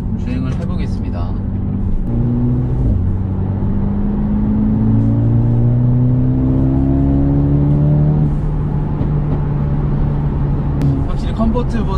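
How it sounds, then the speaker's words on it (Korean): A Mercedes-AMG A35 with a seven-speed DCT pulls hard in Sport Plus mode, its engine note rising steadily through the gears with audible upshift dips, loud and continuous from inside the cabin while a person talks over it. "이제 차량이 조금 달궈졌기 때문에 스포츠 플러스로 놓고 주행을 해보겠습니다."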